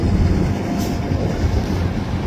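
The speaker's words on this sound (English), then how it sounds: "There's two locomotives right back there." Diesel locomotives switch in a rail yard near a downtown bus loop, producing a loud, steady low rumble and rolling clatter that fills the whole moment.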